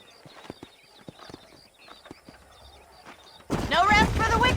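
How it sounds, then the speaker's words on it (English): Horse hooves in the Red Dead Redemption video game, scattered clip-clop beats at moderate distance, cut off by a sudden loud burst of sound near the end. "These are fine horses."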